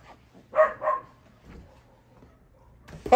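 A puppy barks indoors at people outside, giving two quick close barks, then quiet, a soft low huff, and one more bark at the end.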